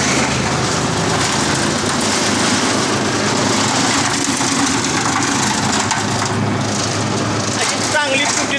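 An engine-driven chaff cutter chops fodder for dairy cows, giving a loud, steady mechanical roar and grinding that runs unbroken through the whole stretch.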